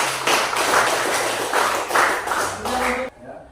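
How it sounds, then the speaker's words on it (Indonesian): Children in a physical education class clap together after an exercise session, a burst of rhythmic hand claps with voices talking over it, ending abruptly. "tepuk tangan untuk kalian semua dulu"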